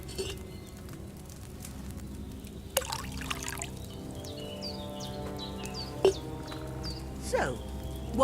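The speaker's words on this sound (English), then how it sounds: "First, you have to pour the right base into the cauldron." Liquid base is poured from a pitcher into an alchemy cauldron in the game Kingdom Come Deliverance 2, a soft trickling splash over steady room ambience with faint bird calls, quiet and without speech.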